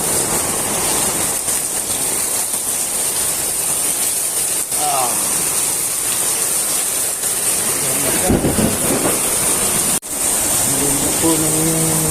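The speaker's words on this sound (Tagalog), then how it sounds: "Grabe, lakas na ulan." Heavy rain pours in a steady, loud broadband wash that fills the whole clip, with brief voices and a few thumps and knocks breaking through near the end.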